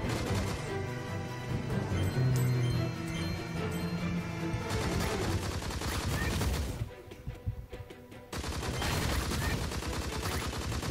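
Repeated explosive blasts and gunfire-like bursts from a rocket launcher in the video game Monsters and Monocles, layered over busy game music and effects, with a brief quieter dip before the loud din resumes.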